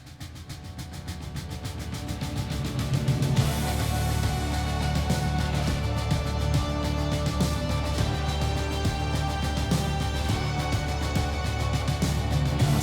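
A song plays as a recording, building quietly before a heavy, full-band drum-driven section crashes in and continues loud and dense.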